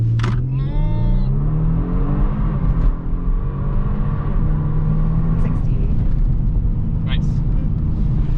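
A 2022 Kia Stinger GT with all-wheel drive launches from full brake to full throttle, its engine swelling quickly into a loud, steady roar that continues throughout while people talk inside the cabin.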